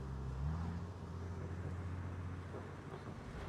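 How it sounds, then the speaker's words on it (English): A Holden VT car in Brisbane traffic decelerates, a low steady exhaust rumble with a soft burble heard from inside the cabin, with no talk over it. "Oh, the VT has a really nice deceleration verbal."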